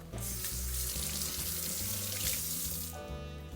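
Tap water runs steadily into a kitchen sink as hands are rinsed off after handling egg white and lemon while making a cocktail, a close, continuous splashing flow that eases slightly near the end.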